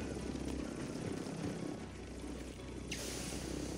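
Helicopter flying in Call of Duty Warzone, a steady rotor and engine drone that stays loud throughout, with a brighter hiss entering near the end.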